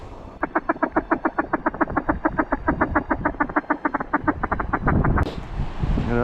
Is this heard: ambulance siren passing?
no